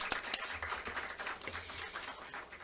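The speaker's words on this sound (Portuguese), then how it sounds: "Uma salva de palmas." Faint, steady applause from a conference audience at a C20 Brasil session greeting a speaker, heard as a soft patter of many hands with no talk over it.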